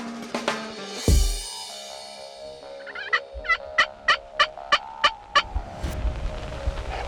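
A wild turkey gobbles from a distance on a ridge, a rapid run of sharp repeated notes, alone with no talk, against a quiet outdoor background.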